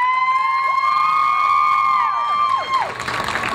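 At an evening Light The Night charity walk in Philadelphia, a crowd cheers with high, sweeping whoops and calls that swell together, then break into a short burst of applause at the end.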